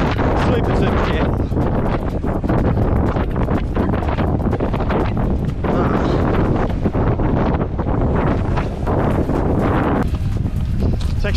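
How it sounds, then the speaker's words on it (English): Strong wind buffeting the microphone on a rocky coastal trail at Streaky Bay, South Australia, loud roaring gusts that rise and fall continuously and swamp everything else. "The wind just creating like heaps of extra resistance."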